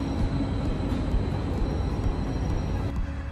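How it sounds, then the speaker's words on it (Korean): A train rumbles past in Szentendre, Hungary, a dense steady roar of rolling wheels heard fairly close for the whole stretch, with no one speaking. "또 기차군."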